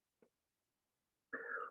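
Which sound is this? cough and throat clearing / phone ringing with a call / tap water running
cough and throat clearing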